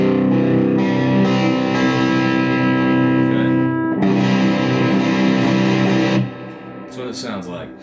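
Distorted electric guitar playing a chord variation from a song, a ringing strum sustained for several seconds, restruck near the middle, then cut short as quieter picked notes follow at the end.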